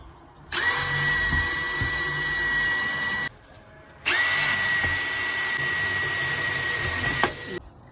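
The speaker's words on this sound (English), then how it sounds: "So we're gonna pre-drill." A Makita power drill pre-drilling holes for solar screens whirs loudly in two long bursts, pausing briefly between them, with the motor holding a steady high-pitched whine.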